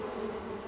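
Cartoon bees buzzing: a steady, faint droning hum that holds evenly for the whole moment, alone without voices.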